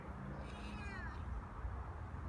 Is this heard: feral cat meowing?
yes